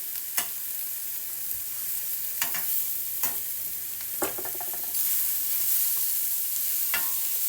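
Onions cooking down in butter for beef stroganoff: a bright steady sizzle punctuated by roughly half a dozen crisp utensil scrapes and taps against the pan, close up, no speech.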